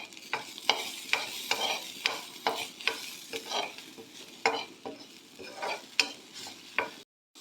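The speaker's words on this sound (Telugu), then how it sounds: "కొద్దిగా పసుపు వేసుకొని మిక్స్ చేసుకుందాము" Turmeric and ginger garlic paste being stirred in a pan for a spinach and potato curry, a run of distinct scraping strokes repeating about twice a second over a faint sizzle, close and clear with no talk.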